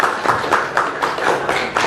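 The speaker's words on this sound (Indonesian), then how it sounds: "tepuk tangan untuk kita semua" A small group of students claps in a classroom, with a series of fairly regular, moderately loud hand claps in a quiet room.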